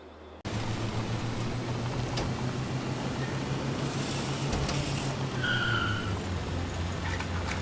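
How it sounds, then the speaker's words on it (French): In a Tintin racing video game, a steady engine drone runs throughout, then tires squeal in a short skid partway through as the car brakes; no voices. "j'ai freiné trop"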